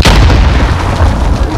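A grenade explodes in Call of Duty Modern Warfare, a loud, dense boom that fills the whole moment and rumbles on heavily without fading.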